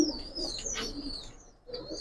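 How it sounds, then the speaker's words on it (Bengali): Male Giribaz pigeon calling at close range, soft cooing mixed with thin chirps from other birds, fairly quiet, with no talking. "একটা নর কবুতর।"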